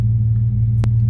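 A 1999 four-door four-wheel-drive Chevrolet S10 Blazer with the 4.3 V6 and 4L60E transmission idles with a steady, loud low rumble heard up close, with a brief click near the end.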